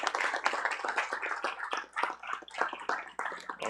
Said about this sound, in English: get ready to stand, give me a hand clap